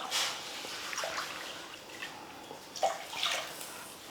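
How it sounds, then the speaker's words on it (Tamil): Water poured from a tumbler into a cooking pot for rava kesari, a few soft splashing pours in a quiet kitchen, faint and close. "1 டம்ளர் ரவைக்கு 3 டம்ளர் தண்ணி சேர்த்துக்கலாம்."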